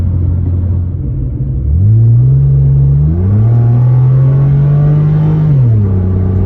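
A Mitsubishi Galant 2.5 V6 accelerates hard, its engine note rising through the revs, dipping at a gear change and climbing again, loud and close from inside the car with no talking.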